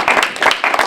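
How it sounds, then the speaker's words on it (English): An audience at a UN spirituality event gives a brief, loud burst of close applause, with pulses of clapping that last under a second. "Don't applaud before I speak."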